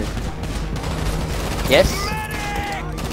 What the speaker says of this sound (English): Shoot the people in the room.